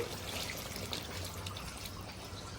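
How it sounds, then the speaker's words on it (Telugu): Water poured from a glass into a pot of drumstick and chicken curry, a soft, faint trickling splash lasting a couple of seconds with no talk. "ఒక గ్లాసున్నర వాటర్ అయితే పోసుకుంటున్నానండి నేను"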